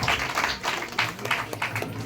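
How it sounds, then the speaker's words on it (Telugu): A crowd at a Sri Sant Sevalal Maharaj celebration claps on request, with a loose, continuous patter of many hands, moderately loud, and a voice faintly audible underneath. "గట్టిగా చప్పట్లు పెట్టండి"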